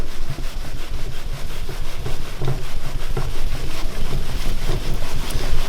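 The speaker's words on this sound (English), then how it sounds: "we're gonna take tissue and I'll start buffing this off a little bit" Tissue buffs rust oxidation off a metal blade in steady, rapid rubbing strokes, a close, loud, continuous scuffing texture throughout.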